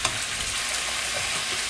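Beef and potatoes for caldereta browning in a hot pan, a constant bright sizzle and crackle up close, with a faint knock at the start and no one talking.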